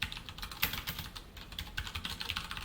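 Rapid typing on a computer keyboard while writing Java code, soft uneven clicks in a continuous run, close and quiet.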